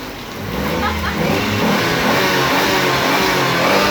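A car engine runs with strawberry soda filling its radiator, revving loudly and steadily close by, a continuous roaring drone that builds slightly, with voices barely audible under it.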